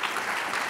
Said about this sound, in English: So let's clap for Mr. Raskin.